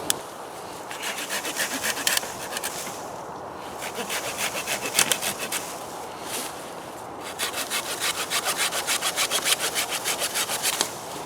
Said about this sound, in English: what I'm going to do now is nip it off using the trusty fold out viscous saw